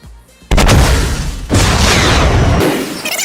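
Guided missile explosion in the video game Fortnite: a loud boom bursts in suddenly, followed by a second heavy blast and a long rumbling roar that tails off.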